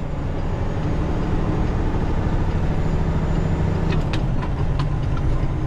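A 13-speed semi truck's diesel engine drones loud and steady while running through its gears, with a low rumble throughout and a few faint clicks near the end.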